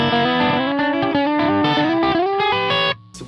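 A distorted electric guitar climbing lick hitting the flat 5, with smooth sliding bends and rich effects, sounding like a pedal steel and banjo together, then cutting off abruptly near the end.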